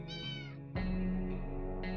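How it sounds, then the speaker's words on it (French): A cat meows in the 60 Seconds survival video game: a clear, drawn-out game meow that is loud and close, with no talking over it. "Il nous a filé un chat."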